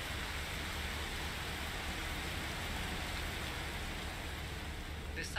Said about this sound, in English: now you have realistic sounds of rain, hail, and wind